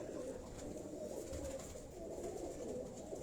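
A rooftop racing pigeon, a Lahore champion, coos softly in low rolling murmurs over a constant hum of background noise, faint and continuous.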